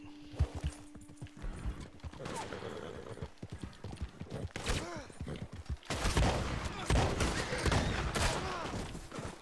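Gunfire and horse hooves from the Red Dead Redemption 2 video game, shots crackling in bursts over galloping clip-clop, growing louder and denser toward the end, with someone talking over the action.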